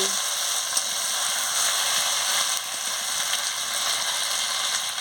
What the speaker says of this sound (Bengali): এবার আমি এলাচটাও দিয়ে দিচ্ছি ভালো করে কষিয়ে নিচ্ছি